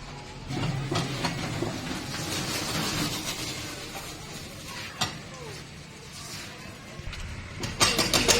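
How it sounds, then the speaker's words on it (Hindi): Faulty gearbox on a Mahindra Treo Zor loader gives sharp, irregular knocking clicks over a low running drivetrain hum, heard up close with no talk. "ये जो आप कट कट करके जो साउंड हो रहा है वो साउंड ही इसका जो मेन प्रॉब्लम है"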